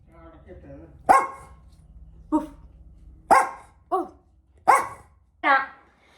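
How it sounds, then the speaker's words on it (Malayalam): A dog barks sharply six times in separated bursts, loud and close, with a low rumble of background noise between barks. "protective dog"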